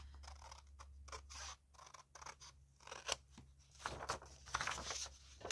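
Scissors trim the white edges off paper in a series of close, crisp snipping and scraping strokes over a low steady hum, with soft paper rustles between cuts.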